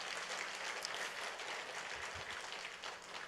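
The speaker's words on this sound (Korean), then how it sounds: "우리 주님께 영광의 박수 올리겠습니다" A church congregation claps in a dense, steady wash of applause that sounds somewhat distant and fairly faint.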